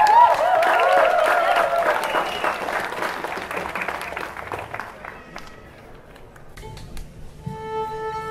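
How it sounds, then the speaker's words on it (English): Audience applause fills a Philharmonic Orchestra of Jamaica concert hall, dense and loud at first, then thinning and fading as a few tonal notes from the orchestra emerge near the end. "Clapping."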